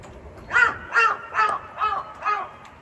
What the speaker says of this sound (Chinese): 这乌鸦是真烦人啊！